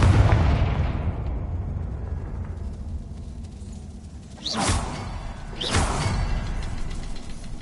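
Confringo fire spell cast in Hogwarts Legacy on PS5, two bursting whooshing blasts a second apart over a low rumbling game ambience, with no voices.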